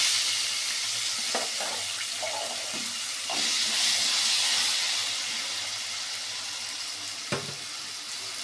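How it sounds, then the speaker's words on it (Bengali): Potatoes fry in hot oil for an egg and potato curry, producing a continuous close crackling sizzle with a few sharper pops and scrapes along the way. "এই তেলের মধ্যে আলুটাও ভেজে নেব।"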